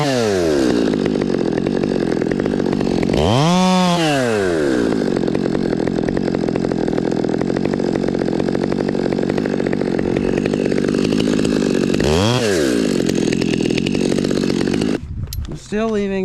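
A chainsaw cuts branches off a hung-up tree, running loud and close at a steady high whine, revving up sharply twice, then cutting off near the end.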